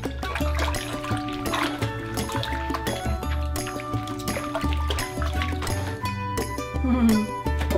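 Freshly harvested cabbage being washed in water, with sloshing and splashing mixed with a tonal background, busy and fairly close throughout.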